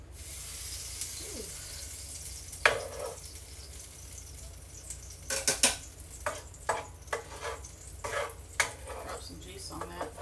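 Beef slider patties cooking in a pan for BBQ sliders, with soft sizzling under a run of sharp clinks and scrapes from stirring and utensils striking the pan, close and irregular, without talk.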